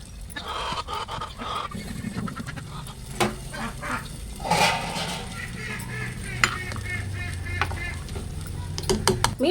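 Fish is added to a simmering, reduced curry and stirred, giving scattered scraping and clinking of a spoon against the pot over a soft bubbling sizzle, close and moderately loud.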